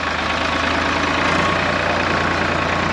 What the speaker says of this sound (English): That's my very first tractor.